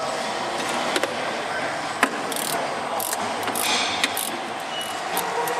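A ratchet tightens the rear shock bolt on a 2011 Ford Edge, giving sharp repeated clicks spaced roughly a second apart over a steady background hiss, with faint voice-like sound present but no clear talk.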